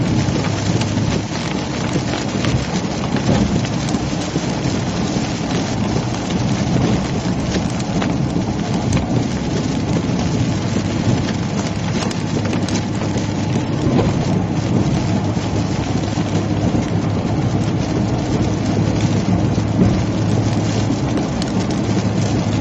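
Heavy rain pours down steadily during a severe thunderstorm in Illinois, a dense continuous roar of drops on surfaces with low rumbling underneath, no voices.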